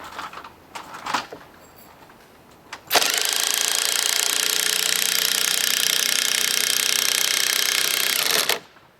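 Impact driver sinking an 8-inch lag screw into pre-drilled timbers on a pavilion roof, with one long loud continuous hammering rattle lasting several seconds after a few light knocks.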